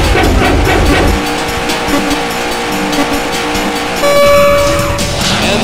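Race car engines roar together at the start of a race in the Daytona USA arcade game, a loud, continuous, close revving drone with a rising engine whine near the end.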